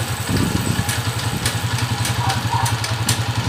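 A Honda TMX 155 motorcycle converted to a 5-speed transmission idles in neutral, its engine chugging in a steady, even low thump that carries on throughout with a faint mechanical clatter on top.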